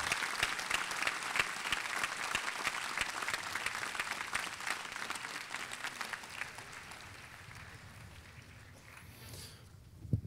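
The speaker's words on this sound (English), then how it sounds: "Please stand and applaud your parents." A graduation ceremony audience standing and applauding the parents, a large hall full of steady clapping that gradually thins and fades toward the end, with a final sharp clap.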